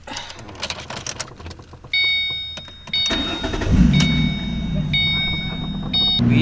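A Ford Mustang being started at a repair shop: a starter cranks briefly, then the engine catches and settles into a loud, close idle with a slight rise in revs, while a few faint jangles and clicks sound around it.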